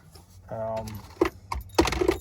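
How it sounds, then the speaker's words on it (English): Metal clinks and rattles of a steering wheel puller and its bolts being handled near a square body truck steering column, with a few sharp knocks and jangles close by and some faint background voice. "now it's time to get this steering wheel puller, and I've already found the right bolt"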